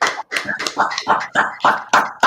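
Scattered hand claps at the close of a class, a small group applauding in uneven, choppy bursts over about two seconds, with no talking.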